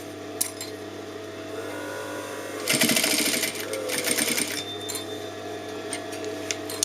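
A sewing machine hems a dress with a backstitch: one brief, loud whirring run of stitches lasts about two seconds amid quieter clicks and handling noises, close by.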